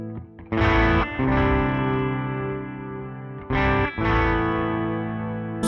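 An electric guitar played through a Suhr Riot high-gain distortion pedal, with loud saturated chords ringing out and sustaining, struck again in a second burst, close and without speech.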